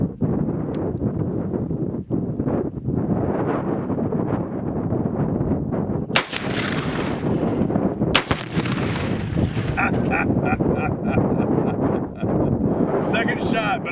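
Gunshots at an outdoor shooting range, a few sharp loud reports spaced several seconds apart over steady wind buffeting the microphone.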